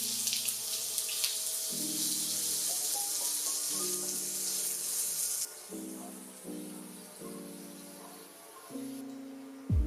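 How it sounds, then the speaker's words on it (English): Onions frying in hot oil with panch phoron and dried chilies for Bengali musur dal, a steady bright sizzle, with low tonal hums from the kitchen fading in and out underneath. "Now add the onions and fry them until they turn a brown color"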